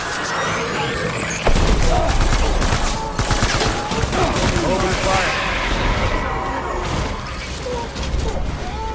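Dense gunfire and explosive bursts rattle through a combat scene in the video game Death Stranding, loud and continuous with layered shots and mechanical clatter, while voices call out over the din.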